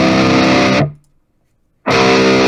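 A Warmoth Nomad electric guitar through a distorted tone with a pitch shifter on the scene plays a loud, buzzing chord, cuts abruptly to near silence for under a second, then slams back in at full volume.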